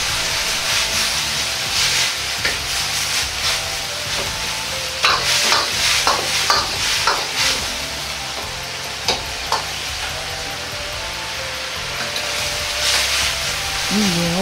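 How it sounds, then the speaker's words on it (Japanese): Rehydrated glass noodles being stirred into a simmering soup of seasoned broth and sugar in a pot for a spicy beef stir-fry, with steady bubbling and sizzle and repeated scraping stir strokes, close and fairly loud throughout. "スープに絡めるように混ぜ合わせて煮込みます"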